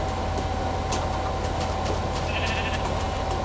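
A single short bleat from a sheep in the Minecraft video game rises over a steady low drone and scattered soft clicks, moderately clear and with no voices.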